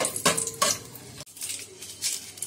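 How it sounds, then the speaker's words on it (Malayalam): Whole cardamom pods, cinnamon pieces and cloves being stirred in a cooking pot for wedding-style fried rice, giving a few light clinks and scrapes of a utensil against metal, fairly quiet with soft kitchen background. "3 ഏലക്ക, 4-5 പീസ് പട്ട, 5-6 ഗ്രാമ്പു ഇത്രയും ചേർത്ത് കൊടുത്തിട്ട് ഒന്ന് ഇളക്കിയെടുക്കാം."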